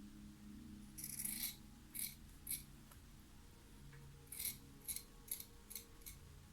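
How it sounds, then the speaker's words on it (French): Scissors snip through fabric down the middle of a sewing study piece, a series of quiet crisp cuts in two clusters, close and faint, with no talking. "Maintenant, je coupe sur le milieu."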